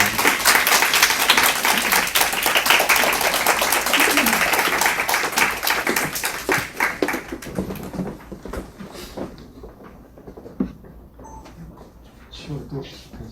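An audience at a Christian lecture claps together to welcome the professor, dense, loud applause that thins after about seven seconds into scattered claps and voices talking.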